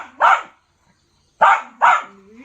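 A dog barks three times, loud and close, with one bark, a pause, then two quick barks and a faint whimper trailing after.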